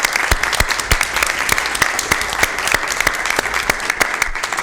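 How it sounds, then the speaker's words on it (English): Audience at a Sacramento Public Library Authority meeting applauding its volunteers: steady, dense clapping from a crowd with sharp individual claps standing out, sustained throughout with no talking. "So one more time, a round of applause for all our volunteers."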